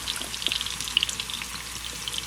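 Meatballs of ground turkey fry in a skillet with a steady, close crackling sizzle and scattered bright pops, heard alone without voices.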